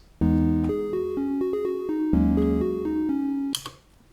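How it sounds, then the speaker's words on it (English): Bright mallet notes on a xylophone play a flowing chord melody, a low chord sustaining under the moving top line, ending with a brief noisy swish. "on the xylophone comp track, which I've soloed for you, I wrote this chord melody"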